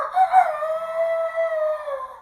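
A person's voice imitates a rooster crowing, a single clear, drawn-out cock-a-doodle-doo with a rising opening and a long falling tail, close and loud against silence.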